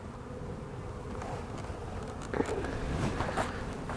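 Honeybees in a beekeeper's Miracle Hive, a faint, steady buzzing hum throughout with a few soft knocks and handling sounds.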